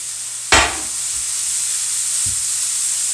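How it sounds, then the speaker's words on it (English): Vegetables and sausage hit a hot pan with a sudden loud sizzle that settles into a steady low hiss, with a soft utensil knock a moment later. "Adding the cup of veggies. Adding the sausage."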